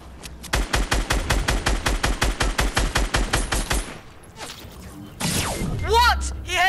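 Rapid gunfire in the Fortnite video game, a headshot landed on a player in mid-air: a fast, evenly spaced volley of loud shots, then a brief pause, followed by a sharp burst of effects and a shouting voice.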